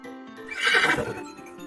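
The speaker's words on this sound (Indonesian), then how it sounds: "didatangkanlah Buraq, yaitu seekor hewan putih yang seperti kuda" A horse's neigh used as a sound effect for the Buraq, a white horse-like steed, rising into one loud, drawn-out whinny that swells and fades over about a second.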